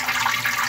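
Water is poured steadily into a container, a continuous gushing splash with no voices.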